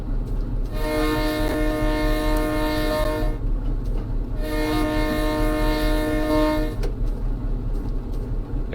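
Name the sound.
train whistle sounded twice in a train simulator video game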